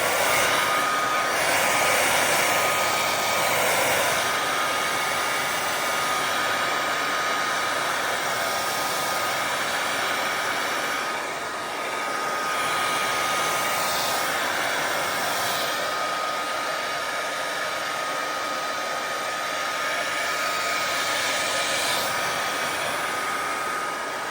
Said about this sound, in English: I'm going to take the hair dryer and simply go like this on the clothing